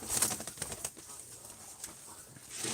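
Pigeons in a coop give soft cooing and rustle with brief wing flutters, fairly faint and close, over quiet background noise.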